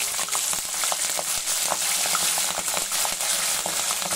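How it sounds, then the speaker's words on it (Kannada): Green chillies and curry leaves fry in hot oil for a Gobi 65 cauliflower starter, a loud close crackling sizzle with sharp pops and spits throughout, no voices heard. "ಈಗ ಕೊನೆಯದಾಗಿ ಒಂದು ನಾಲ್ಕು ಹಸಿ ಮೆಣಸಿನಕಾಯಿ ಕರಿಬೇವು ಈಗ ಎಣ್ಣೆಯಲ್ಲಿ"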